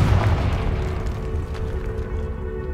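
A Confringo fire curse explosion in the Hogwarts Legacy video game, a deep booming burst that rumbles and then fades into a low, sustained roar.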